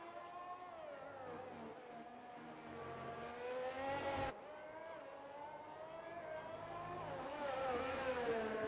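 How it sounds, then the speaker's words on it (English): Formula 1 race cars and the safety car in the F1 22 video game at the Hungary circuit whine past with rising and falling engine pitch, a continuous revving drone across the lap. "the safety car just coming across the start-finish line now"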